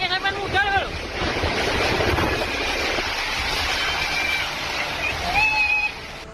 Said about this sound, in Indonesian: Surabaya juga mengalami serangan angin kencang